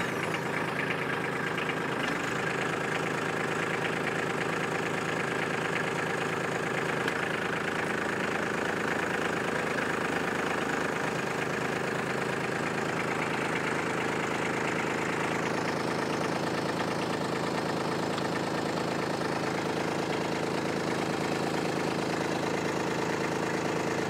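A Kubota B2601 compact tractor's diesel engine runs steadily and close by while its loader is worked, giving a continuous loud rumble that shifts slightly in pitch partway through, with no talking.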